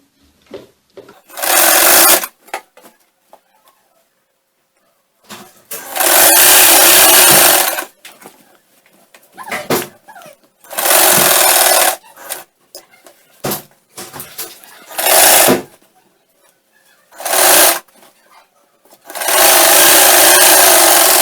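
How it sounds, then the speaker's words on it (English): Sewing machine stitching the side seam of a bustier blouse, running in several loud bursts of steady whirring separated by short pauses and quiet handling noises. "Sew the side."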